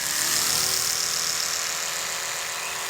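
An Oral-B electric toothbrush runs held right up to a phone, giving a steady, close, continuous buzzing hum with no breaks and no voices.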